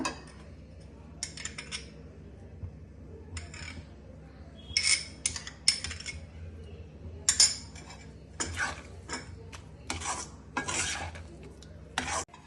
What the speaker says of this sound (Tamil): கொஞ்சம் நல்லா மிக்ஸ் பண்ணி விட்டுருவோம்